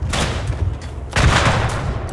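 Machine gun fire and booming explosions in the World War I shooter Verdun, heavy thumping blasts rising in two loud bursts, nearby and without talk.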